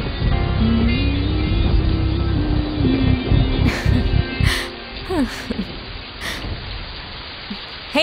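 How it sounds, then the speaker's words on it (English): Heavy rain pours steadily as a dense, even hiss throughout, with a low droning tone and faint voice-like sounds in the first half and a few brief sharper splashes later. "It's raining heavily."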